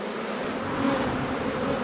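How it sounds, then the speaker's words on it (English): Honey bees swarm around an open hive as a beekeeper spreads the frames, a steady close buzzing hum that fills the whole moment without pause. "Look at all them bees."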